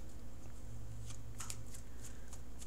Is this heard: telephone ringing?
no